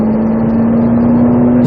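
A Ferrari 458 Italia engine drones loud and steady at a single sustained pitch, holding a continuous note through the whole stretch on the Croix-en-Ternois racetrack during a sprint racing session.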